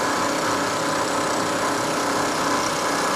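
A milling machine takes light spring passes with an end mill across a vise stop part, giving a steady, loud, even whirring hum with constant cutting noise and no pauses.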